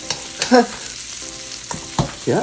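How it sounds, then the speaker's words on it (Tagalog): Onion, garlic and ginger sauté in a pan for mussel adobo, with a soft continuous sizzle broken by several scraping stirs of a utensil against the pan. "Aray ginisa ng sibuyas, bawang na may luya."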